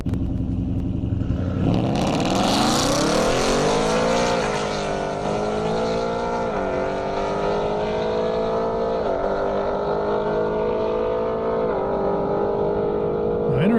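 Audi and Mustang drag racing on an airport airstrip, engines roaring loudly off the line with a rising rev sweep, then a sustained high-pitched drone and gear-change dips as they run the half mile.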